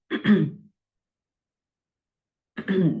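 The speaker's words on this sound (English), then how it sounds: "Sorry, I had a bad cough." Two short bursts of throat clearing, one at the start and another after a long pause, close and fairly loud with no talking.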